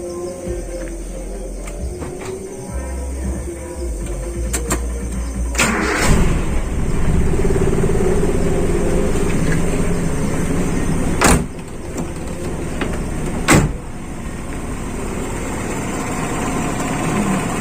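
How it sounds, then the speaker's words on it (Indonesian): Toyota Kijang with a points-type distributor, engine cranking and catching, then running at a steady idle, close and loud, with a few sharp clicks or knocks along the way. "Saya hidupkan dulu mobil ini"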